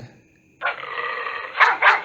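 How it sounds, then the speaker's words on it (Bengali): A dog barking sound effect from a video-editing app's library: a sustained bark or growl followed by two sharp yips, fairly close and alone, with no talking. "তারপরে ডগ"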